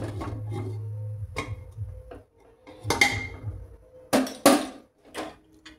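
Metal cake tin filled with batter set onto a stand inside a preheated pressure cooker, giving a few scattered clinks and knocks of metal on metal with quiet gaps between them.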